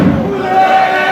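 Lucha libre arena crowd reacting with a sustained rumble of jeers and shouts after a cheap shot by the rudos in a trios match, a steady wash of many voices with a thin whistle-like tone running through it.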